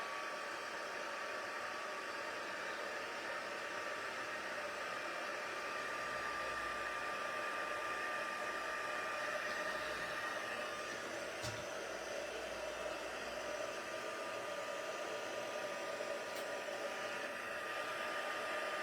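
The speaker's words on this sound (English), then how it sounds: "I'll get my heat gun. So please be with me. I hope this is not too noisy." A heat gun blows in a steady, unbroken whoosh for the full length, fairly quiet and even, with a faint tonal hum and one or two small clicks.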